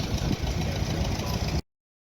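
A vintage Minneapolis-Moline tractor engine idles with a steady, rough rumble, then the sound cuts off abruptly into silence.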